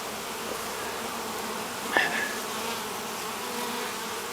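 Honeybees buzz steadily and softly around an open hive during an inspection, a constant low hum with one brief louder bee passing close at the middle.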